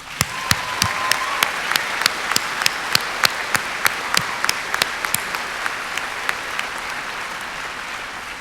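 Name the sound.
round of applause at graduation ceremony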